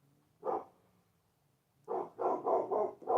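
A dog outdoors barks at passers-by: one isolated bark, a pause of over a second, then a run of four or five rapid barks, moderately distant and somewhat faint.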